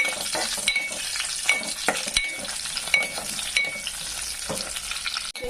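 Curry leaves and green chillies fry in oil for a homemade amla roti pachadi. A steady close sizzle runs under repeated scraping stirs of a spoon against the pan, with no talking.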